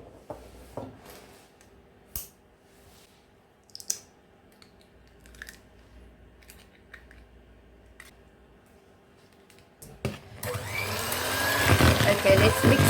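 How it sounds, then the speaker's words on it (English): Madeira cake batter with a fresh egg being mixed in, giving a loud, steady whirring of a mixer in the final few seconds, preceded by scattered faint clicks and knocks in a quiet kitchen. "Let's mix this egg fully into the cake mixture."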